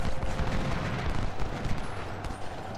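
Massed musket and artillery fire in the Ultimate General: Civil War battle game, a dense, continuous crackle of distant volleys with occasional sharper reports, steady throughout at moderate loudness with no talking.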